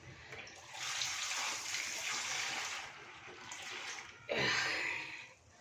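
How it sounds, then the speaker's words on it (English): Cold water poured over pumpkin seeds in a bowl, a steady gushing pour that eases off briefly and then surges again before stopping, close and fairly loud. "we're going to add cold water to them"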